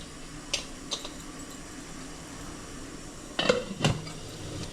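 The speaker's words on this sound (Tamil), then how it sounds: "ஒரு மூடி போட்டு மூடிடணும்" A metal lid goes onto an idli steamer pot holding a plate of sago papads, giving a few sharp metallic clinks and clatters, two light ones early and two louder ones near the end.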